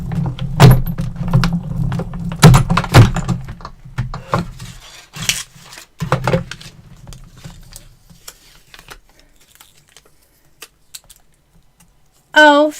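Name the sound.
paper through a die cut machine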